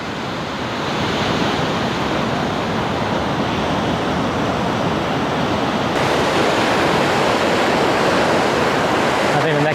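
Ocean surf breaks on a beach in Guanacaste, Costa Rica, during a sea turtle nesting tour, a steady, loud roar of rushing water and wind noise with a swell rising toward the end.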